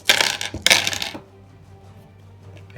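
Dice thrown during a Deadzone tabletop wargame clatter loudly onto the table in two quick bursts of rattling, then settle and go quiet, close by with no one speaking.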